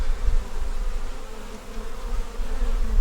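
Honey bees hum in a steady, dense drone around a hive, continuous and fairly close, with no voices.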